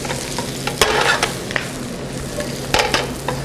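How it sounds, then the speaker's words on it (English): A spoon stirs greens into a hot, sizzling pan with turnips and kohlrabi, steady frying hiss with occasional scraping clinks of the spoon against the pan, close and clear with no talking. "now we're going to add at the very end the greens. Bring it all together. You can toss it, stir it with a spoon"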